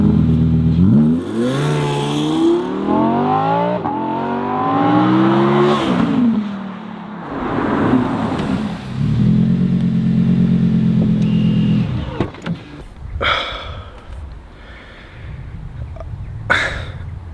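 An Audi R8 V10 Performance launches hard at a track, its engine revving up through rising gear pulls, dropping, then climbing again before settling into a loud steady drone, followed by sharp clunks and bangs near the end.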